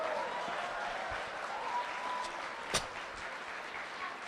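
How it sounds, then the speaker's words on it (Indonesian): A seminar crowd in Indonesia gives steady, rather faint and distant applause that forms an even wash of clapping, with one sharper knock near the middle. "Tepuk tangan dulu."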